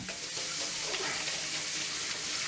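Three chicken fried steaks fry in a pan of hot oil, a continuous close sizzle and crackle with no voices over it.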